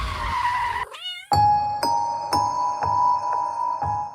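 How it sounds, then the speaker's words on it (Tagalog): A black cat crossing a road at night lets out a brief meow, followed by a sharp skid-like sweep and then a series of ringing, bell-like tones that repeat steadily. "may tatawid na itim na pusa"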